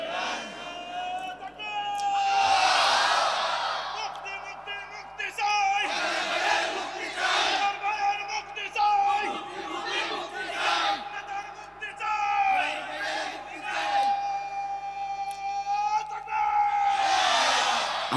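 A large crowd at a religious rally shouts takbir in loud unison, with repeated surging chants and yells rising and falling over many seconds. A lead voice calls out between the crowd's answers.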